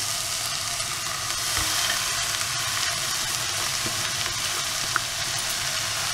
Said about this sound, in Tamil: கீரையை போட்டுட்டு அப்படியே மூடிட்டு ஒரு 1 நிமிஷம் விட்டுருங்க.